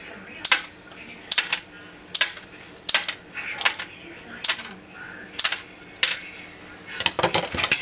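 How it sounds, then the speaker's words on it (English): Scissors snipping pulled old-time hard candy into chunks, a series of sharp, evenly spaced clicks and snaps about once a second, close and distinct over a quiet background. "just take your scissors and cut it into chunks, spreading them out so they don't stick together."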